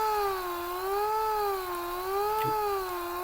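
A steady synthesizer tone whose pitch slowly wavers up and down in a regular vibrato, sustained alone and fairly quiet throughout.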